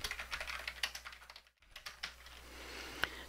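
Rapid keyboard typing while entering text into a document, a steady run of light clicks that pauses briefly midway, then resumes with a sharper final key press.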